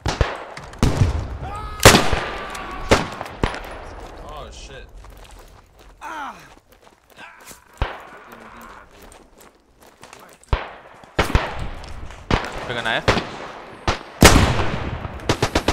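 Sharp gunshots crack out irregularly in the World War I video game Beyond The Wire on the Cantigny map, some in quick bursts, with quieter stretches between them and occasional faint sounds of movement.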